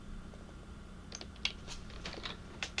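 Someone types on a computer keyboard, with light, irregular key clicks over a steady background hum, growing busier partway through and ending in a few sharper taps.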